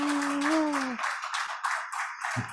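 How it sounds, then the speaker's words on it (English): An audience applauds poets at a poetry event at the Emily Dickinson Museum, a steady wash of clapping that continues after a speaking voice fades out in the first second, with a brief low thump near the end. "I'd love a big round of applause from our audience for these poets."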